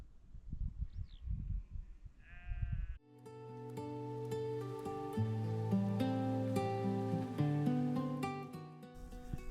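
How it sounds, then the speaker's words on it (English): Several sheep bleat nearby in the Welsh hills, first a few scattered calls, then a long chorus of overlapping bleats from the flock. "There's a lot of sheep"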